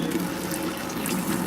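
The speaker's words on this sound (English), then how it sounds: "I have an urn, but I just fill up a jug" Water running steadily from an urn's tap into a jug for sparging during home brewing, a continuous close pouring and filling rush with no talk.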